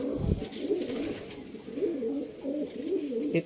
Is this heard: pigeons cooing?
yes